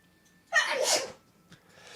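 A single loud human sneeze bursts out abruptly after a quiet moment, followed by a soft breath, close to the microphone with no talking.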